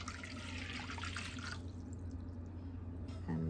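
Water is poured from a measuring cup into a second bowl to activate bread yeast, a close steady trickle and splash that stops abruptly about halfway, leaving quiet room tone, with no talking.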